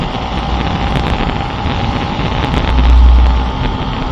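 A motorcycle engine runs steadily and evenly with no rattle, a continuous broadband drone that swells slightly toward the end, with no voices.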